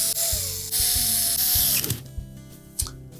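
Screws driven in to secure a warming control switch on a GE range, a whirring, ratcheting driver that runs in a couple of sustained bursts before stopping, followed by a few sharp clicks and taps nearby.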